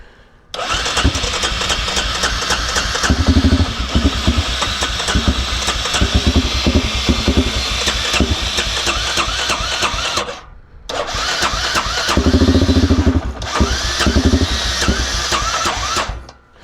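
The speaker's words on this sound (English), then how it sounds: "Maybe now we can hit it on engine start." A small engine on a cheap secondhand jet ski cranks and catches, then runs loud and rough for about ten seconds. It cuts out briefly, restarts and runs a few more seconds before stopping; no voices.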